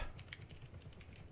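Rapid typing on a computer keyboard while playing Rust, a steady run of close, crisp key clicks with no talk over them.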